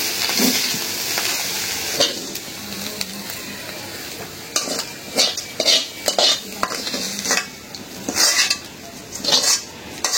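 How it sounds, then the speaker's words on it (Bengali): Potatoes frying crisp in a pan with salt and spices, a steady sizzle under repeated scraping and clinking of a metal spoon stirring against the pan, close and without voices. "আজকে একটু কড়া করেই ভাজলাম"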